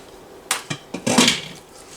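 Spoon stirring a pesto-like spice paste into mango pickle (achaar): a few scraping, knocking strokes against the container, close and fairly loud, with quiet gaps between them.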